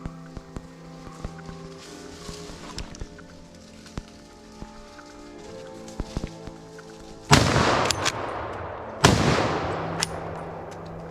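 Two loud rifle shots ring out about two seconds apart, fired at wild boar from a hunting stand during a driven boar hunt. Each sharp crack is followed by a decaying echo, after a quiet stretch of faint outdoor background.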